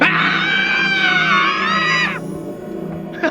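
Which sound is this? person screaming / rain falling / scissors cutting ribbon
person screaming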